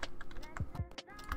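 Rapid clicking of computer keyboard keys played claw-style during a World of Warcraft Antorus raid, quick irregular taps close to the mic, with faint background noise.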